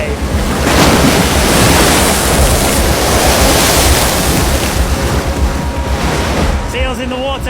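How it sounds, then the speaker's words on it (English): A huge ocean wave breaks near icebergs, a loud, continuous roaring wash of surf mixed with heavy wind noise that fills the whole stretch, with a brief tonal cry near the end. "look at the size of that wave"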